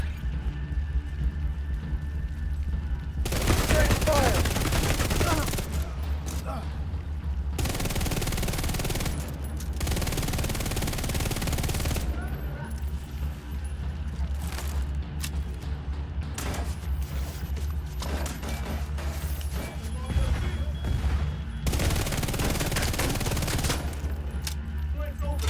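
Heavy gunfire in The Division 2, long sustained bursts of automatic weapons fire broken by short pauses, loud and close, with mechanical clatter and game sounds filling the gaps.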